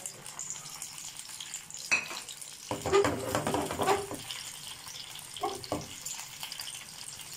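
Chicken and cabbage veg rolls frying together in a pan, a close steady sizzle with bursts of louder crackle and spatter as they are moved, and a few brief spoken words.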